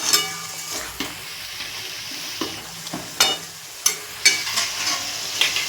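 Chicken cooked down with spices in a pan, giving a steady loud sizzle broken by sharp scraping stirs and clinks of a spatula at irregular intervals, with no voices.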